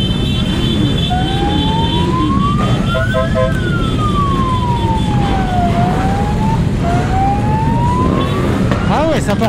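A loud wailing siren sweeps up and down over heavy traffic rumble, close and constant throughout, with a faint secondary tone and a brief chirp near the end.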